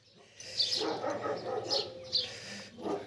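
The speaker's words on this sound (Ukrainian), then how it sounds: "Ух ти, яка собака в сусідів гавкає." A large dog barks several times in the distance at a neighbouring property, with birds chirping faintly in the background.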